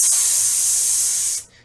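An aerosol spray can releases a single continuous, bright hiss for over a second, then cuts off abruptly, close and loud with no talking.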